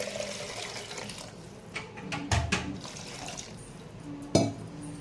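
Water poured into a cooking pot for a moong dal and tomato curry, a low splashing pour with a louder surge midway and a brief gush near the end, fairly close.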